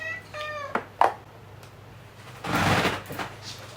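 A black cat meows clearly near the start, followed by a few brief knocks and a longer rustling passage of unboxing noise.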